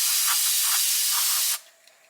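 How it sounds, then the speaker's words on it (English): Aerosol can spraying cleaner onto wheel hubs to dissolve old grease, a loud steady hiss lasting about a second and a half, then cutting off abruptly into quiet. "just spray your hubs down."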